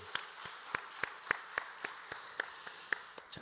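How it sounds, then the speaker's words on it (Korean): A church congregation claps in scattered, uneven rhythm at an early-morning Holy Week prayer service, a thin, fairly faint patter of individual claps over about three seconds. "하나님께 영광의 박수"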